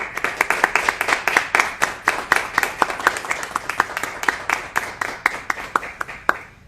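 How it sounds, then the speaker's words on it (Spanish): A small audience claps after a talk on art as political propaganda in Renaissance Florence, with sharp, distinct hand claps in a steady patter that slowly thins out toward the end. "yo creo que se merece un fuerte aplauso"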